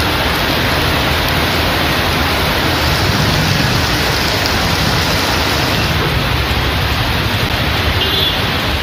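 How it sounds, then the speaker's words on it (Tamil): Heavy rain pours down steadily in Vilathikulam, Thoothukudi district, Tamil Nadu, a dense, even hiss of downpour with no let-up and no voices. "தூத்துக்குடி மாவட்டம் விளாத்திக்குளம் பகுதியில் கனமழை கொட்டியது."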